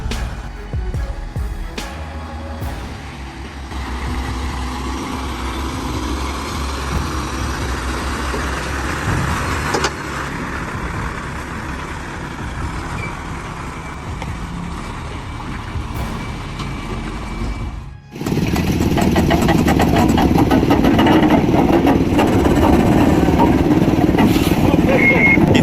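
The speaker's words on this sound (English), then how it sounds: "The engine roared powerfully, echoing in the quiet space." An off-road truck engine roars steadily while climbing a slope, a low continuous drone that swells louder and rougher near the end as the truck works harder.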